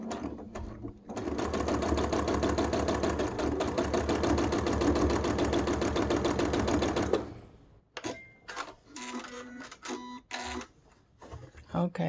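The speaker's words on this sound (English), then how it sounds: "You just have to make sure you don't sew the other side." Sewing machine runs steadily for about seven seconds, stitching a seam on a fabric face mask, then stops, followed by fabric handling and a voice speaking.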